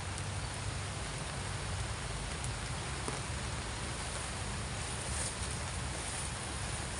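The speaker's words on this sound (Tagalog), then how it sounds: "Umuulan talaga, no?" Steady rain falls without pause, a dense, even hiss of drops on surfaces, with no voices.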